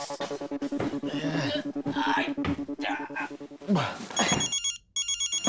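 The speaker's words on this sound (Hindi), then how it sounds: "मेरा फोन बज रहा है" A phone rings repeatedly with an electronic ringtone pattern, steady and fairly loud, while people chat and move around nearby.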